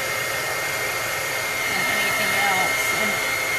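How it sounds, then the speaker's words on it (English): Heat gun blowing hot air over Brusho crystals on paper, a steady, close, loud rushing hiss that holds level throughout with no pauses. "these heat guns get really hot, so don't put your fingers down"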